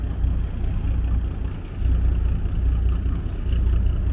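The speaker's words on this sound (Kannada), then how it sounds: "ಇಷ್ಟು ದೊಡ್ಡ ಮೋಟ್ರ್ ಆದ್ರೂ ಯಾವುದೂ ಜಾಸ್ತಿ ಶಬ್ದ ಮಾಡ್ತಿಲ್ಲ" A large houseboat motor on the Alleppey backwaters runs quietly and continuously, giving a steady, low rumble with no clear changes across the stretch.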